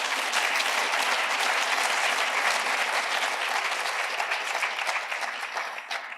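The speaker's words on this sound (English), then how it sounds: "So I would really appreciate if we can just give them a round of applause." Loud, dense applause fills a conference hall at a national space conference closing session, holding steady for about six seconds before easing slightly at the end.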